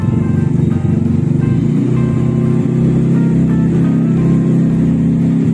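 A Vespa Primavera scooter engine is held at high revs, a loud, steady, close-up drone with a strong low hum that barely varies through the whole stretch.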